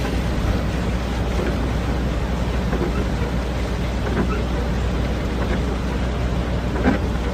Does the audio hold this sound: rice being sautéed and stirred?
no